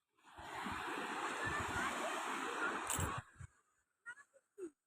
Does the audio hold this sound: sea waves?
yes